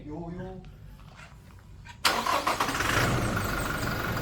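Quiet talking, then a Toyota Fortuner Legender 2.4 2WD engine cranks and catches abruptly, roaring into a loud, steady idle close by.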